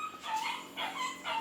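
A dog's high whimpering cries come in three drawn-out, wavering bursts, fairly close and clear, with no talking over them.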